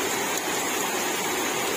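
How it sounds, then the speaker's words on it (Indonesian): Heavy rain pours down in a steady, dense hiss of countless drops hitting surfaces, loud and continuous with no voices. "Sekarang hujan agak lumayan gede."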